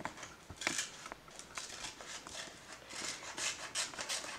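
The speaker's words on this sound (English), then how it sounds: "fold and cut like that so that we can get down to the second line and cut out the inside of the mitten" Scissors snip through folded paper to cut out the inside of a mitten shape for a stained-glass craft, with a run of soft, close, irregular cutting and rustling sounds and no talk.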